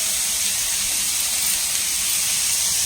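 Onions sauté in a pan over a high flame, making a loud, steady, close sizzle with an unbroken hiss that holds at the same level throughout, with no talking.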